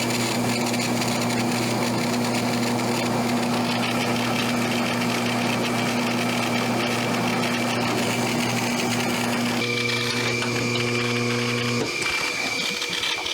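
A Logan 830 turret lathe runs a part, its motor humming steadily with a whining mechanical drone, close and continuous; the pitch shifts near the end as the machine changes speed.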